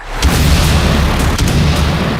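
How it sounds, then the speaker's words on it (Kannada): A bomb blast from a US air strike on Iran, heard as a sustained, loud, low rumbling roar with deep booming energy that rolls on for a couple of seconds without any voices. "ಇರಾನ್ಗೆ ಬಾಂಬ್ ಎಸೆದು ವಿಡಿಯೋ ಹಂಚಿಕೊಂಡ ಅಮೆರಿಕ."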